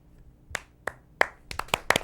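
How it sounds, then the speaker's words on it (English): A few scattered hand claps from a small studio audience welcoming a co-host, roughly seven distinct sharp claps, close and clear, quickening toward the end with no talking. "So please, a warm round of applause for Jonah Phelps."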